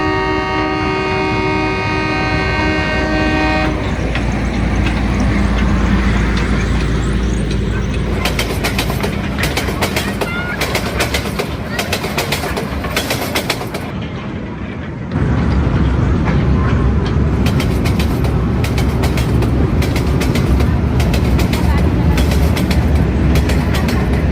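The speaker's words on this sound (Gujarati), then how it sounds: "આપણી ટ્રેન આવી ગઈ છે" At Kankaria, a train horn sounds briefly before a train rolls in with a loud, continuous rumble, rattling wagons and rhythmic clattering over the rails.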